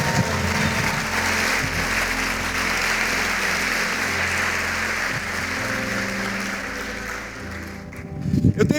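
A church congregation applauds in a dense, sustained wash of clapping that holds steady, then thins out near the end as a voice returns.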